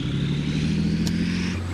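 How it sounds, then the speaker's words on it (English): Armoured Vehicle Launched Bridge tank engine running, exhaust venting through the rear grills as a loud, steady low drone with a faint whine above, a brief click partway through and the pitch dropping slightly at the end. "These are the rear grills. This is where all the exhaust gases come out of the back of the tank."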